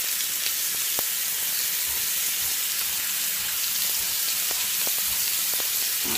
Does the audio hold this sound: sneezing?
no